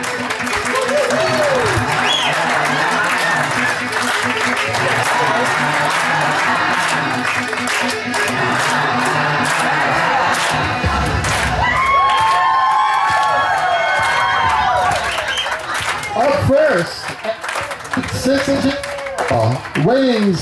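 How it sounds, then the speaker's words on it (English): Wedding guests clapping and cheering for a grand entrance, a loud sustained wash of applause, whoops and shouts from a crowd, with voices calling out over it throughout. "We're introducing the wedding family, so let's clap."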